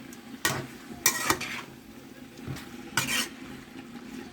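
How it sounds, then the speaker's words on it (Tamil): A spoon stirs boti, a tripe curry, in a pot: a few separate scraping, clattering strokes, fairly close and moderately loud, with soft background noise between them and no talking. "நல்லா கிண்டி விட்டுக்குவோம்."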